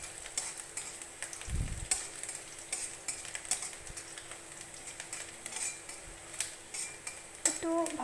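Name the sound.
pointed gourd and potato frying, stirred in pan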